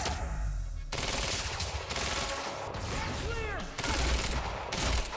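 Rapid bursts of gunfire crackle through a Quantum Break gunfight, dense automatic fire alternating with brief quieter moments, with voices shouting in between.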